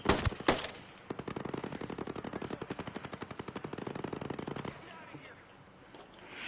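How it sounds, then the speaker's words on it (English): Rapid gunfire rattles outside, a long burst of evenly spaced shots after a few louder opening cracks. The shooting is moderately loud and somewhat distant, then trails off into quieter background noise. "All the shooting going on."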